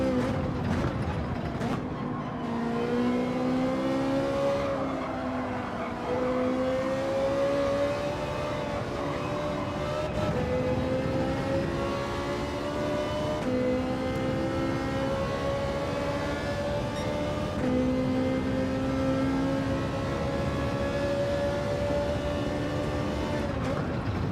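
Ferrari race car engine in Gran Turismo 7 on the Dragon Trail circuit, a steady high-revving whine that climbs through gears with brief shift dips, loud and continuous throughout, with a voice talking over it.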